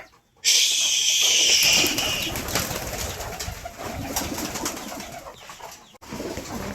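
Pigeons coo up close, with a brief bright burst of bird chatter at the start and soft rustling continuing underneath.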